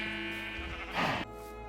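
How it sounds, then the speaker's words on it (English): Sheep bleat from a large pen on a video game farm, a steady drone of overlapping animal cries with one louder, broader bleat rising near the middle before the chorus settles back. "Got my sheep farm, just a big pen of sheep right here."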